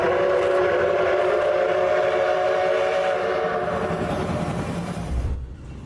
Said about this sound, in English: There's something hypnotic about watching thousands of tons of steel glide perfectly down the rails.